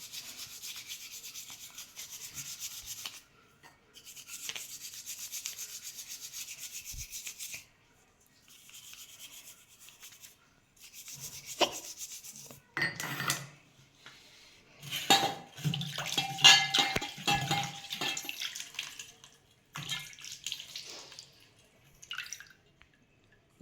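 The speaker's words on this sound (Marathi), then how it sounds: "चला आता आपण चांगलं पितांबरी देव स्वच्छ करू" Brass idols are scrubbed with Pitambari powder and water in bursts of wet rubbing and scraping, broken by pauses, with light metallic clinks and drips close at hand.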